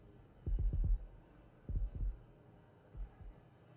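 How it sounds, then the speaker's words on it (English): Heartbeats picked up by a heartbeat-detecting device, heard as a few low, thumping double-beat pulses in clusters, fairly faint, with no talking. "Now we're hearing our heartbeats"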